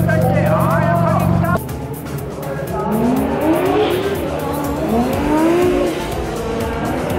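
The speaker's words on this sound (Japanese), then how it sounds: "タイヤを温めてるんでしょうか。" A D1 Grand Prix drift car at Autopolis scrubs in and warms new tires, its engine roaring close and loud with long, sweeping tire squeals throughout, and talk faintly underneath.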